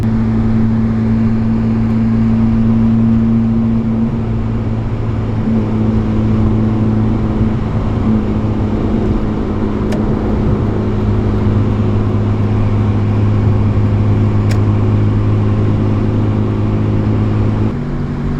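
Drift car engine running steadily up close, a loud, continuous mechanical drone with smooth gear changes and no break in the sound for the whole stretch.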